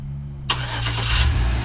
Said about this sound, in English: It's got remote engine start.